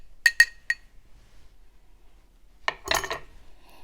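A spoon strikes a glass of ti punch made with cane syrup three quick times, then after a quiet pause stirs with a brief rattling clink.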